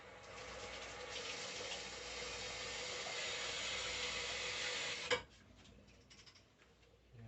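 Water runs steadily from a tap to rinse a wine thief during home kit winemaking, a continuous close splashing hiss that stops abruptly with a brief knock, leaving a quiet room.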